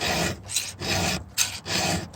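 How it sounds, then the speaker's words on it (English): A hand file rasps across a chainsaw chain tooth in repeated, even strokes, roughly four or five close, steady scraping passes with brief pauses between them, no voices. "if the file's not smooth going in the tooth, if it's catching, you got a burr"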